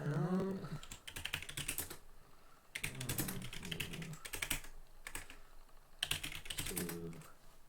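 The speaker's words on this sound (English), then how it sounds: "I can hear the crackling of my keyboard." Rapid keyboard typing comes in bursts of clicking close by, with brief pauses between runs; a voice speaks faintly at the start.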